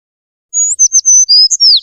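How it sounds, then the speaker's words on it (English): A house sparrow gives a quick series of high, clear chirps, close and loud, six or seven short notes in a rapid run against silence. "House sparrow."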